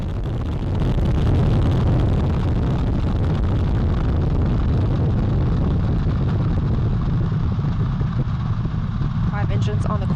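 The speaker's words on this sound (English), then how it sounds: "Engines on the core stage and 2 solid rocket boosters now propelling the vehicle at 128 miles per hour." Artemis I rocket launch with core stage engines and two solid rocket boosters, a heavy continuous low roar and rumble filling the whole stretch, with a commentator's voice over it.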